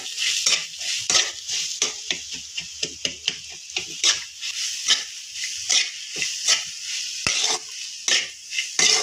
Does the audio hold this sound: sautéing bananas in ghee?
yes